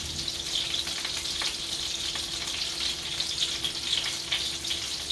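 Chicken breast sizzles and fries steadily in a pan for taco filling, a dense continuous hiss with faint crackles throughout, close and even, no talking.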